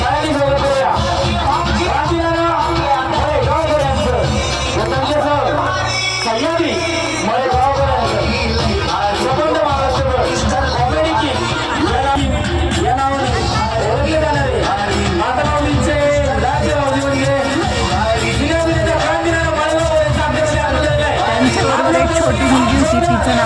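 Dense crowd chatter and babble at a Ram Navami event in Shirdi. Many voices overlap continuously and loudly, and music or amplified sound mixes in throughout.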